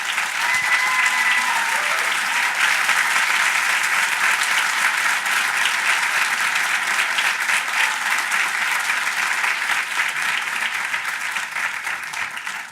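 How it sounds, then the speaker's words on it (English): A crowd claps steadily and loudly throughout, a dense sustained round of applause that tapers slightly at the end. "Let's have a round of applause."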